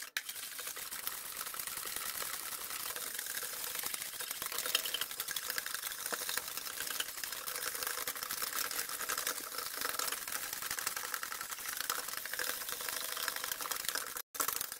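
Cream is whisked by hand in a bowl for a McFlurry-style ice cream, making a dense, rapid, steady clatter of whisk against bowl that continues without pause for about fifteen seconds, close and even in loudness.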